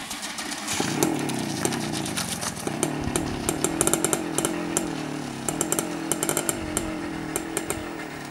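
A Romet Ogar moped's two-stroke engine, fitted with a replacement ALMOT cylinder, runs with a raspy, buzzing drone and sharp crackling bursts throughout. It is steady and fairly near, with no talk over it.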